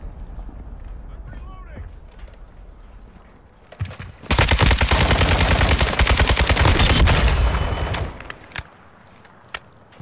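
Gunfire in a team deathmatch video game, where a flaming sniper rifle round is fired: a loud, dense volley of rapid shots runs for about four seconds, then a few isolated cracks follow amid quieter game noise and voices.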